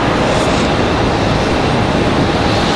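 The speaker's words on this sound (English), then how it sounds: "American Airlines 733 coming in from London Heathrow" An American Airlines Boeing 777 arriving from London Heathrow at Charlotte Douglas airport, a loud, close, steady broadband jet roar that fills the whole stretch without a break.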